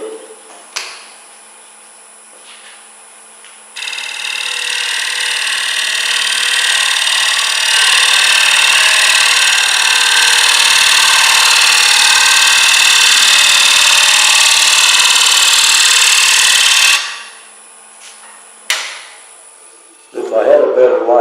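Hand scraper held at an angle shear-scraping wood, a steady, loud, sustained hissing scrape lasting about thirteen seconds, with quiet moments before and after.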